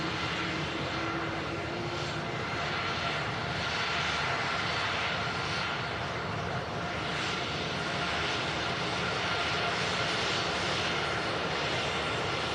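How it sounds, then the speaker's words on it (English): A TUI Dreamliner jet taxis along the runway at Manchester Airport, its engines making a steady, loud whine and roar that continues without a break. "the TUI Dreamliner is having to backtrack up the runway"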